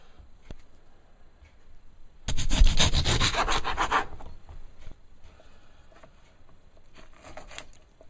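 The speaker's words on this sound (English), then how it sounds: "During this time, I squeeze some fresh lemon juice" Fresh lemon being squeezed for juice, heard as a short burst of close, rough rubbing and squishing that lasts about two seconds in an otherwise quiet kitchen, with no talking.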